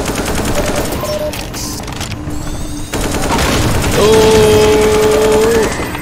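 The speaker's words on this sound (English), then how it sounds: "Oh, we got some gunfire." Machine gun fire in the video game Half-Life 2, rapid sustained bursts of automatic gunfire filling the scene, loud and dense, with a rising tonal game sound near the end.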